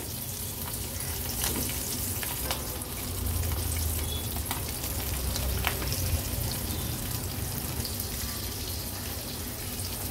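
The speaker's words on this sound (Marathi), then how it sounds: "तिन्ही तुकड्या आपण व्यवस्थित तव्यावर सोडल्या आहेत तळायसाठी" Steady oil sizzling and crackling from three pieces of jitada fish, coated in semolina and rice flour, frying on a flat pan, continuous and close, with occasional sharper pops and no voices.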